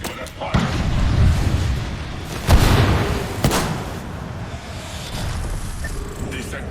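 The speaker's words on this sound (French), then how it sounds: "Je lance une grenade froide." A cold grenade is thrown and explodes in the Apex Legends video game, with a loud booming burst near the middle and another sharp bang shortly after, set against steady gameplay noise and rumble while a voice talks throughout.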